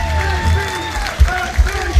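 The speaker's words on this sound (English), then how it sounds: "Just listen to the crowd." A crowd at a snooker semi-final applauds and cheers after the winning frame, with a thick wash of clapping, voices and rhythmic chanting, and a commentator speaking over it.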